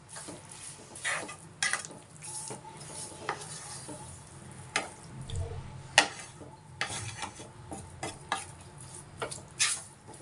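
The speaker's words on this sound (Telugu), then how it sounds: "మొత్తం మంచిగా కలిపేస్తున్నాము" Pumpkin halwa stirred in a pan, with soft scraping strokes and irregular light clinks of a spoon against the metal over a faint cooking sizzle, fairly quiet and without speech.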